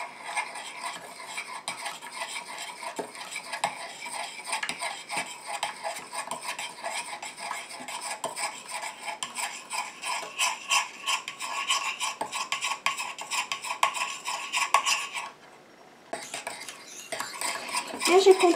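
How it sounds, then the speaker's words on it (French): A small container of oil phase for a violet body butter is stirred steadily while water is trickled in, giving continuous close scraping and clinking of a utensil against the vessel, briefly pausing near the end before resuming. "je viens rajouter petit à petit mon eau tout en mélangeant"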